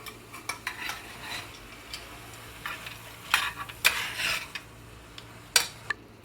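A utensil stirs bell peppers, peas and peanuts around a pan, giving soft, irregular scrapes and clinks over a faint sizzle, with a few sharper knocks toward the end.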